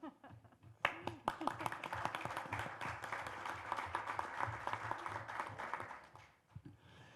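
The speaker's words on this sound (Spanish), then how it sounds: "sí, aplaudan, sí, aplaudan" Audience clapping at a ventilator donation ceremony, a burst of scattered hand claps that builds into steady applause with voices underneath, then tapers off.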